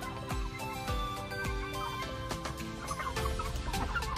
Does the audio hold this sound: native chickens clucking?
yes